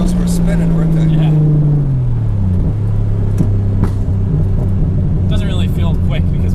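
A project car pulls away hard with little traction, its engine roaring loud and close as the pitch drops and settles; people talk over the steady drone.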